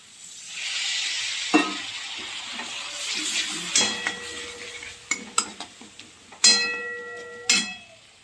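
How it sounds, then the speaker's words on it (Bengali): Spice paste sizzles steadily in a pan while a spoon scrapes and clinks against the metal several times, close and clear, with no talking. "মশলা কষানো হয়ে গেছে"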